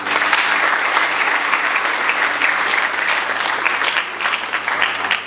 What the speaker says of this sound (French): On peut les applaudir, les petits séminaristes.